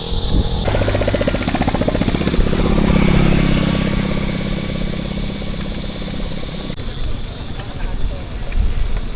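A motorcycle roars loudly close by, its engine swelling and then easing off, while voices talk over the noise.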